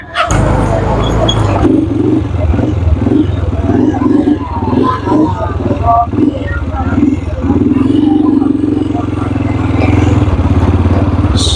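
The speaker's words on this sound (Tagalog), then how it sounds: "dahil nag-overheat yung aking motorsiklo" A motorcycle engine that has overheated runs steadily at close range on Tabora Street in Divisoria, Manila, a low continuous drone with clattering street noise and people talking over it.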